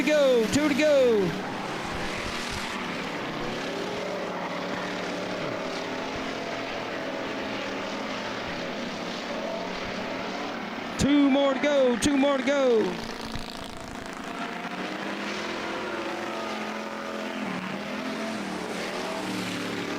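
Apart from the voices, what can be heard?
super late model race cars racing at Blackwater Speedway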